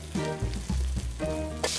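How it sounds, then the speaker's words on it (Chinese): Pan-fried mushrooms tossed in a hot wok with barbecue seasoning, giving a short burst of close sizzling with scraping stirs over a steady tonal hum. "放入刚才这个煎好的蘑菇，再给它翻炒均匀"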